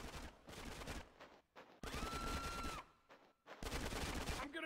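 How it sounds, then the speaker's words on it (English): Rapid gunfire in Grand Theft Auto San Andreas comes in loud sustained bursts separated by short pauses, with a faint tone sounding under one burst. "Give me some fucking covering fire!"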